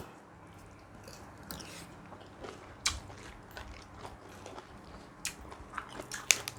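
Someone eats chewy grilled cuttlefish tentacles up close: moist bites and squelchy chewing with sharp irregular clicks and smacks, growing busier toward the end, no speech.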